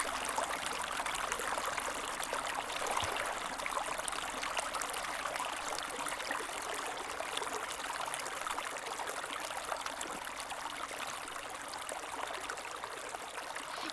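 Continuous water rushes and trickles steadily, like a river stream flowing, a dense even wash of sound that stays loud and unbroken throughout with no voices.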